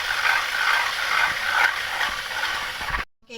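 Electric blender whipping cream for an eggless chocolate mousse cake: a close, steady, hissing motor whir with a slight pulsing texture that cuts off abruptly near the end.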